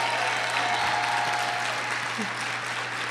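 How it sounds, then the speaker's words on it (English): Audience applause at a nursing candlelighting ceremony for the engineer and stage manager: a steady, dense wash of clapping from a full room, even and unbroken, with a faint tonal hum running beneath it. "Could you give them a round of applause for me, please?"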